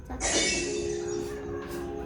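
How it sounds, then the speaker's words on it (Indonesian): A glass drops and breaks, giving a bright, sharp shatter followed by a short spray of tinkling shards and fading ringing, heard at moderate level in a quiet room without speech. "Suara gelas jatuh dan pecah."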